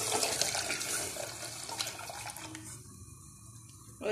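Milk poured into a pan of simmering water for masala chai gives a continuous splashing, liquid pour that thins and stops near the end before a brief final clatter.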